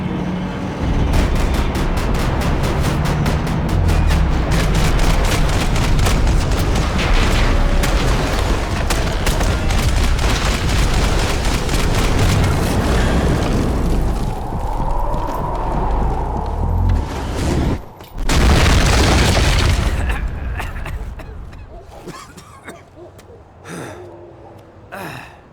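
Loud, dense gunfire rattles almost without pause in the video game Max Payne 3. Rapid shots and booms layer over one another before thinning into a few scattered bangs near the end.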